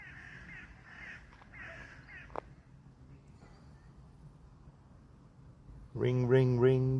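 A single raven caw bursts out loudly at the end, preceded by quiet, muffled sounds and a faint background.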